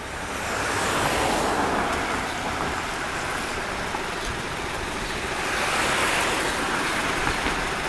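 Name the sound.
trolleybus driving away from a stop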